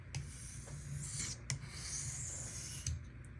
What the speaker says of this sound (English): Sometimes I just think it works best just to go back and forth at the same time.